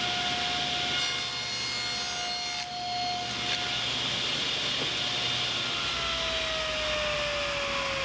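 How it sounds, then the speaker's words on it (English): Combination blade on a table saw cutting a 1/4 inch Klingspor-reviewed solid aluminum board, a steady loud whining grind with a high tonal ring that drops slightly in pitch near the end, continuous throughout. "this is actual 1/4 inch solid aluminum. And we'll cut this too."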